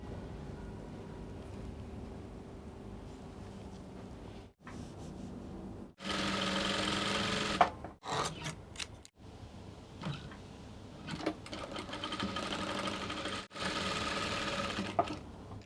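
Sewing machine stitching dress seams with half-inch allowances, several bursts of fast whirring stitching separated by pauses and small clicks, close and fairly quiet with no speech.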